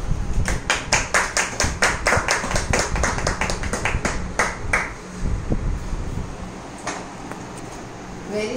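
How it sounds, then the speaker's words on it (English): A short round of applause from a small indoor group, roughly a dozen sharp, rhythmic claps that thin out and stop after a few seconds, followed by quiet room sound with a few stray taps. "one round of applause for her."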